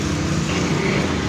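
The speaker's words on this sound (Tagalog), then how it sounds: "subukan natin paandarin yung motor ni boss" Honda motorcycle with a weak, low-voltage battery and a misfiring engine cranking and starting, a steady rough low rumble throughout, fairly close.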